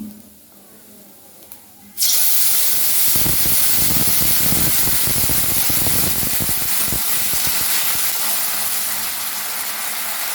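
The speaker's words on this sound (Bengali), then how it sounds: "এবার আমি এতে জল দিচ্ছি।" Water poured into a hot pan of turmeric-seasoned pulao with banana stem bursts in with a loud, steady hissing sizzle, steam rushing up and staying strong to the end after a quiet start.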